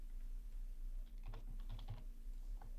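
Code being typed on a computer keyboard for a Python string-slicing lesson, a quick run of close, light key clicks over a steady low electrical hum, with no speech.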